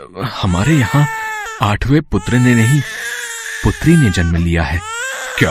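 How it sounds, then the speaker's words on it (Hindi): An infant cries loudly in sobbing, wavering bursts, woven through a dramatized retelling of a birth in a prison cell, with voices speaking over and between the cries. "अरे, ये तो बच्चे के रोने की आवाज है।"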